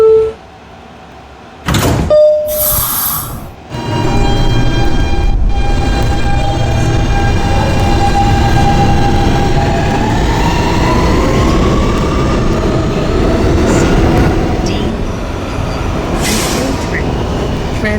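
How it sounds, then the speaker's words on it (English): A Cadland-bound K subway train, an R160B or PST-9, pulls out of the 46-47th Streets station: door chimes and a brief thump give way to rising motor whine and steady rumbling wheel noise that fills the car for most of the run. "This is a Cadland bound K train."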